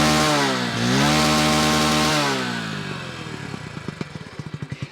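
Hero Splendor Plus motorcycle engine running loud and close, a steady harmonic drone with a pitch dip early on, then settling into a slower, uneven idle with distinct repeated putts toward the end.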